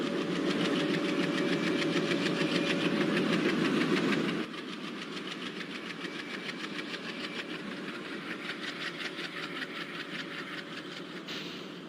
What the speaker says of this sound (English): Let's enjoy the crossing with beautiful chugging sound of ERS WDM 3A.